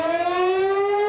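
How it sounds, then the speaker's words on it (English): A loud outdoor tornado warning siren holds a steady, slowly rising wail, a single sustained tone rich in harmonics with no voices. "tornado sirens are one of many means to be alerted for severe weather"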